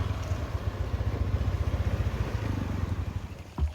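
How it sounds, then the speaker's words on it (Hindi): A motorcycle comes toward the listener on a road in Ubud, Bali, its mid-pitched engine buzzing steadily and fairly close for several seconds, ending in a brief rattling clatter. "और सामने से आ गई है मोटरसाइकिल"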